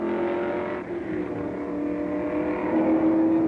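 A 1968 Can-Am race car driven by Bruce McLaren passing the pits at the Stardust Grand Prix in Las Vegas, its engine a steady loud drone that swells slightly toward the end.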